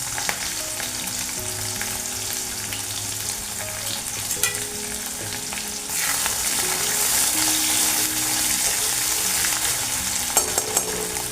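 Chopped onions fry in hot oil with nigella seeds. A continuous, close crackling sizzle swells louder partway through, with occasional stirring scrapes and a low background hum.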